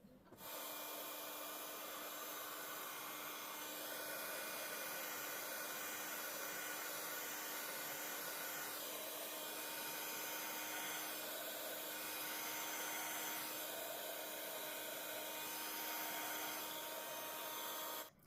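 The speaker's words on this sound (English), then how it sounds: "I made sure my heat gun was really hot and just kept bringing it over and back" A heat gun blows steadily over a handmade paper card, giving a continuous airy whir with a faint tonal hum. It runs unbroken for the whole stretch with slight shifts as the nozzle sweeps back and forth.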